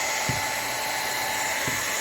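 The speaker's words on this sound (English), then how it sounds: "And your blow dryer will blow it right off the table" A handheld blow dryer runs continuously at close range as it is used to melt colors on a DIY garden globe craft. It makes a steady, loud whooshing hum with two faint knocks and no talk.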